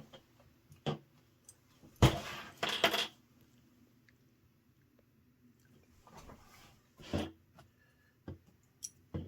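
Sewing clips being pulled off a fabric tote bag, giving a few quiet plastic clicks and clatters in short clusters, with a louder burst near the start and another midway, and faint handling noise between them.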